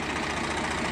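A 2016 Swaraj 855 FE tractor engine idles nearby, giving a steady, dense low rumble with a faint knocking texture and no breaks.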